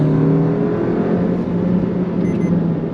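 A new Suzuki Vitara hybrid accelerates on a test drive, its engine tone rising steadily over a dense road rumble, heard close from inside the cabin with no voices.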